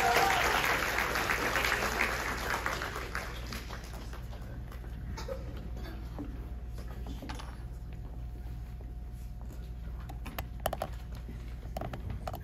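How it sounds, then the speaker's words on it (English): Audience clapping at a recital of the Chinese folk song Jasmine Flower: dense applause at first that gradually thins into scattered, uneven claps over about twelve seconds. "Let's give them a big round of applause."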